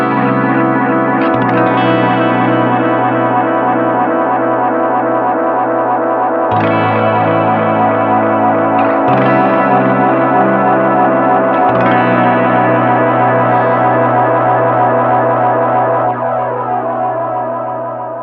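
Electric guitar chords played through the tape echo of a UAFX Galaxy '74 pedal on head 2, with thick repeats building into a continuous swirling wash under heavy feedback, loud and unbroken for the whole stretch.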